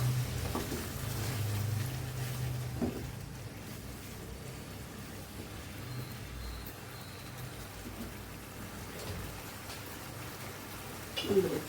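Spice paste for a Bengali shol fish curry with potato and pointed gourd, sautéed in a pan with a splash of bowl-rinsing water, giving a soft, steady sizzle that runs quietly throughout.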